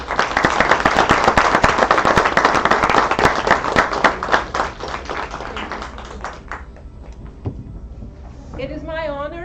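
Graduates at a December commencement ceremony break into dense, loud applause that holds for several seconds, then thins out and fades as a single voice begins speaking near the end.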